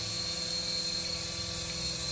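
RC toy helicopter flying, a steady high-pitched whining whir of small electric rotors and motor, constant and fairly close throughout with no talk.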